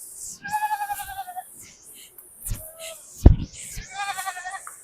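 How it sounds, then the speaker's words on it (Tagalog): Goats near Man-ibay Falls bleat close by in repeated wavering calls, two loud bursts with shorter cries between, plus a sharp knock partway through. "Daghan may kanding dito ha."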